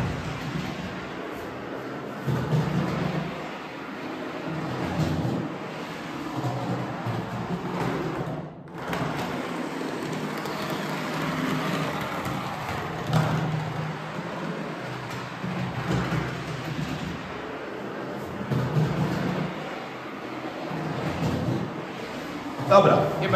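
A model train runs along a tabletop layout with a low rolling rumble and faint clicking that rises and falls over the whole stretch, while someone talks over it almost throughout.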